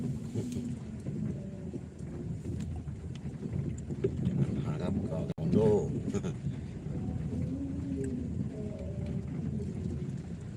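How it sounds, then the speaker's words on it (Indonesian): Rain falls outdoors as a continuous broad hiss with low rumbling underneath, while someone talks over it nearby. "Hujan sahabat-sahabat, hujannya. Hujan."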